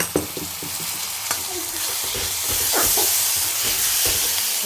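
Boiled Bombay duck fish added piece by piece to a hot frying pan with spices for a taro dish: a loud, continuous sizzle and steamy hiss, punctuated by scraping stirs and soft bumps.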